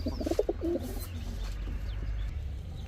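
Pigeons at a bird seller's stall coo close by, with a short burst of warbling coos at the start followed by softer calls over a steady low hum.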